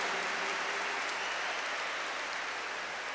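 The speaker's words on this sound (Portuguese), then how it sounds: "dá uma salva de palmas para ela" A church congregation applauding during a sermon, a soft, dense, even patter of many hands that holds steady throughout, with no voices over it.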